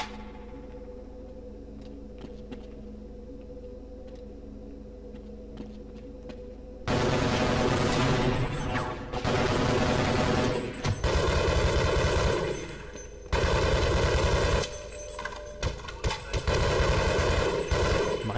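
Bursts of rapid machine gun fire from the video game Half-Life break out after a quiet stretch, loud and rattling in several long volleys with short pauses between them, alone without talk.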